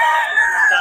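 A rooster crows once, a loud close harmonic call held for under a second.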